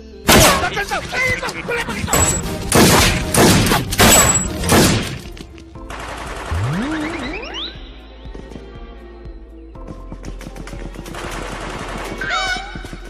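Gunfire in a comedy film scene involving police and a gangster, loud rapid bursts of shots in the first seconds, followed by a sliding whoosh and scattered impacts amid music and background noise.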